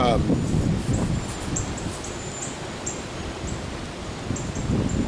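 Wind blowing outdoors in Louisiana, heard as a steady broadband rush and rustle that swells and eases slightly, with faint bird chirps above it and someone talking.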